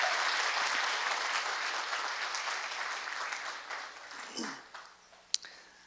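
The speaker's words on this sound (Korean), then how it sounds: "한 박수, 큰 박수로 한번 수고를 표현했습니다." Church congregation applauding a drama team after a service performance, steady dense clapping that fades out near the end, with a brief sharp knock just before it stops.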